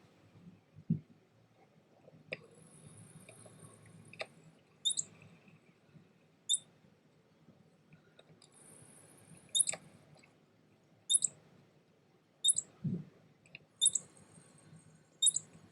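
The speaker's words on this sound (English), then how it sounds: "there's some California ground squirrels emitting alarm calls" California ground squirrels give sharp, high alarm chirps outdoors, a dozen or so short calls in irregular bursts over a quiet background with occasional low thumps.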